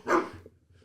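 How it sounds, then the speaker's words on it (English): A single short dog bark, close and moderately loud, followed by a faint low rumble and quiet trailing noise, with no talking. "That's a dog for Terry"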